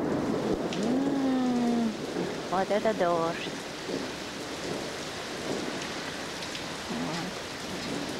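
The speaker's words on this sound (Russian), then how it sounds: "О, слышите, какой гром гремит?" Rain falls steadily during a thunderstorm in Alaska, with a low rumble of thunder beneath the hiss, while a person speaks briefly over it near the start.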